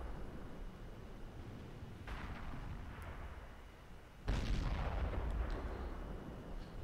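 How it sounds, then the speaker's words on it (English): Artillery fire in a tank video game featuring the M46 Patton: a faint boom early on, then a sudden loud, sharp blast that rumbles and decays over a hissing background. "Oh, and look! There's the artillery."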